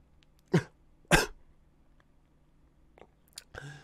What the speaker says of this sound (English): before I just keep coughing in your ears